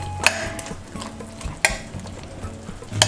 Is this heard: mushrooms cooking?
yes